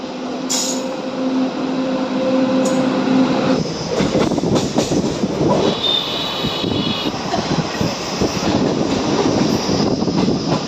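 A train at a railway station, with a steady rumble and rapid clattering of wheels on track, a squealing tone early on and a brief high screech midway, loud and close throughout.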